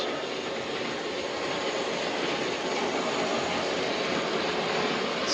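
A modified Baldwin model locomotive with added weight and traction tires runs steadily under load, its small motor producing a continuous whirring hum at constant level throughout, with no talking.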